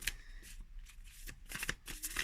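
Riffle shuffling a new deck of oracle cards, heard as several quick papery bursts of cards flicking and riffling close by, with short pauses between each shuffle.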